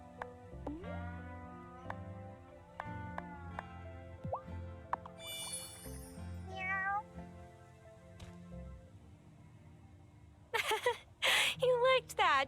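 A cat in the video game Wylde Flowers meows several times amid plinking game music and chimes, followed by a burst of louder meows near the end.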